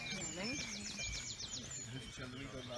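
A song thrush sings in a spring dawn chorus, repeating a bright phrase over steady background birdsong, moderately distant with a faint murmur of other sounds.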